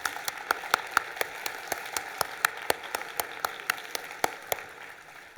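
Clapping at a community college nursing pinning celebration comes as evenly spaced, sharp claps about four per second, moderately close. The claps sound like a single steady pair of hands more than a full crowd, with a faint room hiss underneath and no talking.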